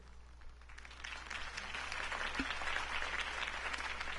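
Steady applause from a crowd in a video game, a broad wash of clapping that swells slightly and holds at moderate volume, with a low hum underneath.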